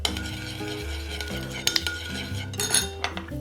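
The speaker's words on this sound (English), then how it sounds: "I'll give this a stir." A spoon stirring a seasoning mixture of salt, sugar, pepper and lemon in a bowl, with bright clinks and scrapes against the dish over a steady background hum, a few sharper taps standing out.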